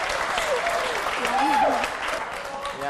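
An audience at a stage show applauds in a steady, dense wash of clapping, moderately loud, while people talk over it.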